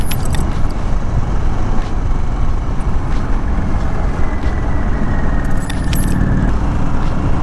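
A Harley-Davidson Sportster S motorcycle rides the curvy Tail of the Dragon road, its engine and wind roar loud and constant throughout, with faint metallic jingles on top.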